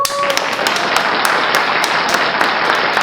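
Short burst of hand clapping in a Korean coffee lab studio, scattered sharp claps repeating irregularly over about three seconds, close and fairly loud, from a small group welcoming a returning guest.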